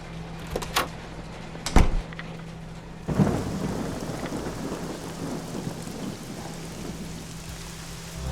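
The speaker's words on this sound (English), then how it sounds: "all the thunder and rain." In the horror game Nightmare Frames, a few sharp knocks are followed by a steady downpour of rain with a low thunder rumble, heavy and continuous, with no voices.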